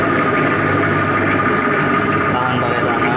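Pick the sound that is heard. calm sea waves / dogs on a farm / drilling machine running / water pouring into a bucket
drilling machine running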